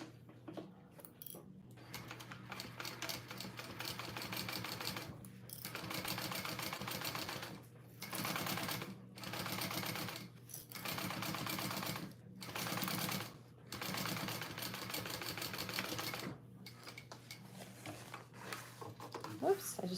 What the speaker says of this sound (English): I'm going to top stitch that together.